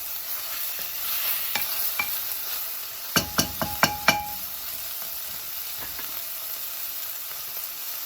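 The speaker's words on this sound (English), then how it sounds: "So a nice little saute with the onions and garlic." Onions and garlic sauteing in a pan for menudo, a soft steady sizzle with a quick burst of stirring scrapes in the middle, close and fairly quiet, no talking.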